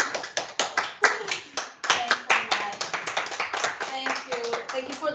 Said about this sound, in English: we can accompany the applause with this little present from the museum